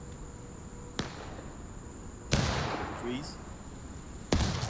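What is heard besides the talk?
cannon fire in a video game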